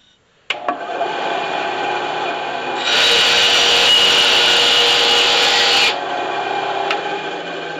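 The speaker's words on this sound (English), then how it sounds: "I'm going to do my best to follow it in this bandsaw here." A bandsaw cuts a curved line through a piece of wood for a beehive handle jig. The rasping cut starts abruptly and runs steadily for about seven seconds, growing louder and harsher in the middle stretch, with no talking.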